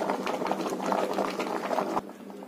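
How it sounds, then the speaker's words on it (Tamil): Keerai greens boil in a pot, giving a steady bubbling and gurgling simmer at close range that cuts quieter near the end. "கீரை பாருங்க நல்லா வெந்துட்டிருக்கு"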